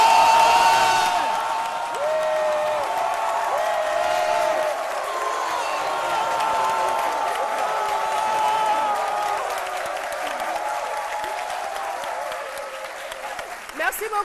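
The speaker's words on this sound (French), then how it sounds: "Nous allons l'applaudir." Studio audience applauding and cheering for a champion athlete on a midday television show, a sustained roar of clapping with occasional whoops that slowly fades, with a voice speaking over the crowd.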